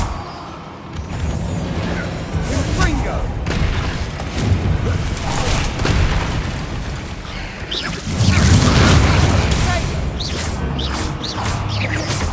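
The spells Bombarda and Confringo go off in Hogwarts Legacy, booming blasts and whooshes over a dense, steady bed of combat noise, with one heavier low blast near the end and no clear talking.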